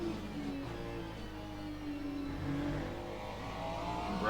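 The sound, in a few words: GT3 race car engine at Silverstone, racing video game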